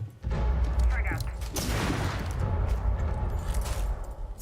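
Frag grenade going off in Rainbow Six Siege: a short muffled lead-in, then a loud boom with a long rumbling decay under continuous game noise.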